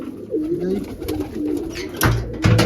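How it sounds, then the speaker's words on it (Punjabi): Pigeons coo softly up close while being fed grain, low throaty warbles repeating, followed by a couple of louder fluttering bursts. "ਬਸ ਹੁਣ ਜਾ ਕੇ ਦਾਣੇ ਪਾਉਣੇ ਆ ਕਬੂਤਰਾਂ ਨੂੰ"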